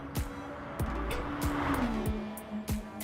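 Racing cars in the video game GT Sport at the Red Bull Ring whoosh past one after another in quick passes, engine tones rising and falling, with a faint squeal and steady background hum.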